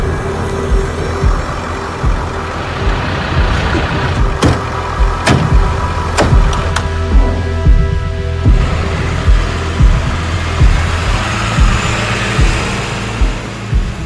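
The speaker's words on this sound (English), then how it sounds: "We wait as the vehicles drive towards the border, into darkness." Several vehicles drive toward a border in the dark, engines rumbling steadily and fairly close, with short sharp clicks or knocks cutting in now and then over the continuous motor drone.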